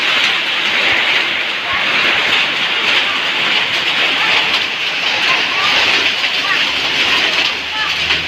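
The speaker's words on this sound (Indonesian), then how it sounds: "Hujan es, bro. Hujan es." Hail and rain pound down during a storm in Medan, a loud, dense, unbroken roar of impacts close by, with voices talking over the downpour.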